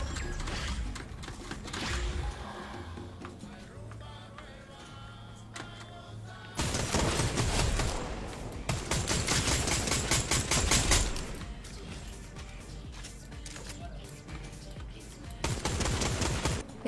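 Rapid bursts of automatic gunfire in a video game rattle in long volleys, loud and sustained, with brief lulls and a faint background hum between bursts.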